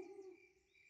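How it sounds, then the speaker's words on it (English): A cartoon female owl hoots in reply, a single faint, drawn-out call heard from a distance with no talk over it. "Grandpa, did you hear that? I certainly did. It's a girl owl."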